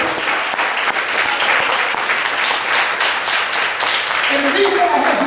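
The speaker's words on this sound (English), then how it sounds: "Come on, put your hands together and clap." A church congregation claps their hands together in a dense, loud, continuous round of applause, with a voice and some tones faintly audible under the clapping toward the end.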